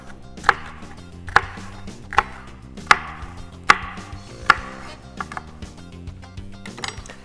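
A knife chops salad vegetables on a cutting board, with sharp, evenly spaced thunks about one per second that thin out toward the end, close and alone without speech.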